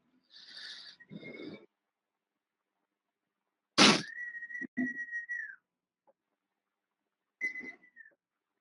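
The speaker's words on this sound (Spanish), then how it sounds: "¿Les pueden oír el silbido que hay al fondo?" Sparse, steady whistled tones come and go in short bursts against near silence, with a sharp sudden burst of noise partway through.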